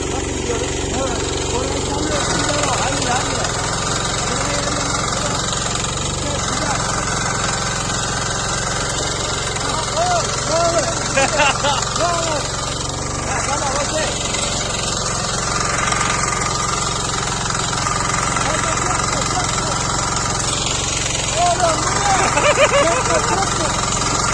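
A small two-wheel tractor engine chugs steadily throughout, a continuous mid-pitched running drone, with people talking over it now and then.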